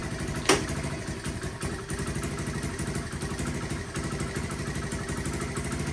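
A 2015 Lifan Pony 100cc motorcycle engine idles close by with a steady, rapid chugging pulse that holds an even level, broken only by one brief sharp click near the start.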